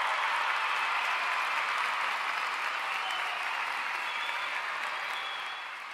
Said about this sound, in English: Another round of applause there.